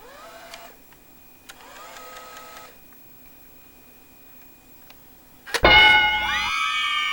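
A Canon A1 camcorder slowly ejects a tape: faint whirring motor runs and small mechanical clicks, followed by a louder clunk and a sustained whine close up at the end.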